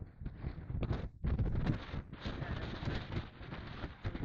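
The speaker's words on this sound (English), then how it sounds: "Very windy." Steady wind roars and buffets the microphone on an exposed hilltop, with gusty rumbling surges and a brief lull around the one-second mark.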